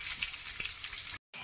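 Chopped onions hit a hot frying pan for egg rice, giving a steady close sizzle with a faint stir. The sound breaks off in a brief dropout near the end before resuming.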